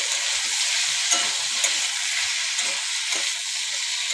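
Masala with green chili and chili powder frying in a pan, giving a steady bright sizzle throughout with soft periodic scrapes of stirring.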